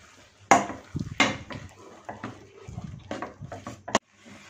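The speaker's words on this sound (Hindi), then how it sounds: "बस इस तरह से खोटते जाएंगे।" Haleem (daleem) of slow-cooked lentils and meat being pounded and mashed in a pot, with repeated uneven thuds, knocks and scraping strokes at close range.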